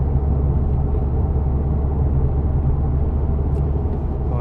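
Low, steady engine rumble and road drone from a Subaru Impreza WRX STI Type-RA Spec-C turbo car cruising in top gears, heard from inside the cabin with no talking.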